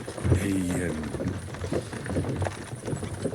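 Horse hooves clip-clop in the video game Kingdom Come: Deliverance II, a steady rhythmic trot under someone talking throughout.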